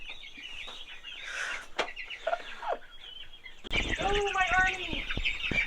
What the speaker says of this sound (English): Go, my army of chickens!